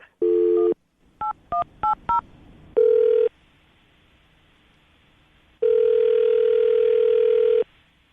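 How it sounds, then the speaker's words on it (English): A telephone number is dialed for a radio call: a short tone, then a quick run of touch-tone beeps, followed by a long steady ringback tone, loud and close with no talking. "I'm going to dial the phone number right now, see if we can get her on the phone"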